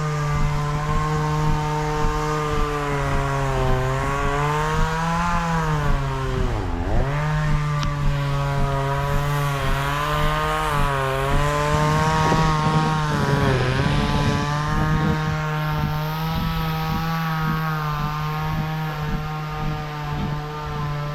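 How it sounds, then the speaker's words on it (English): A neighbor's chainsaw runs continuously in a yard, a loud, steady buzzing drone that dips briefly in pitch as the engine bogs under load and then recovers, with no voices over it. "Guy's looking at me while he's running a chainsaw."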